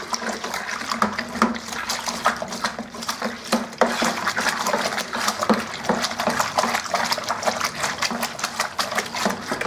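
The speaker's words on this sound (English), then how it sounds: "let's give this a good stir, make sure it's all in there. I'm trying not to splash it." Home brew beer kit mixture being stirred in a fermenting vessel, a steady swishing and sloshing of liquid with repeated knocks of the spoon against the sides, close and continuous.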